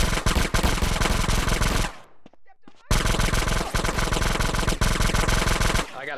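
Rapid automatic gunfire from a GTA San Andreas shootout between CJ and police, dense and loud, breaking off into a brief near-silent gap before the bursts resume.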